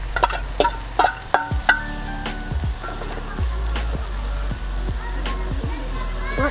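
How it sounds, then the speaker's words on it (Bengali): Dried chepa fish being crushed for a dish with kakrol leaves, giving a run of dull, close thuds, quick at first and then more spaced, with no talking. "5টা চেপা থেতলে দিচ্ছি"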